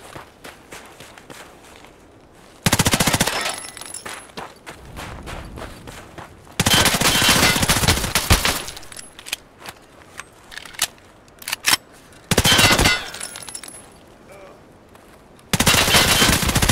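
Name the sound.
gunfire from a shooter video game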